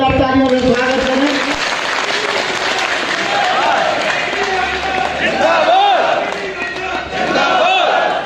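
A crowd at a BJP Viksit Bharat Sankalp Yatra gathering in Rajnagar, Khajuraho claps and cheers loudly and continuously to welcome the state party president, with voices shouting over the applause.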